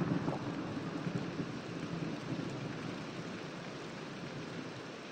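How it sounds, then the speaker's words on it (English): A Minecraft thunderstorm fills the clip with continuous, even rain hiss and a low rumbling undertone of thunder, steady and enveloping throughout with no voices. "It's a thunderstorm now."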